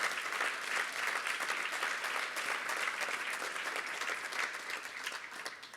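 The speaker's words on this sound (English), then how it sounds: "Give them a round of applause." Audience applause at a riverway summit honoring conservancy district staff, steady moderate clapping from a crowd lasting several seconds, somewhat distant and even.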